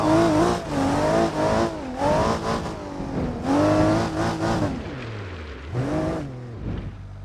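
An all-wheel drive rally car in BeamNG on a downhill rally course, the engine revving hard and rising and falling in pitch through repeated accelerations, with a deep drop on a downshift near the end, loud and close.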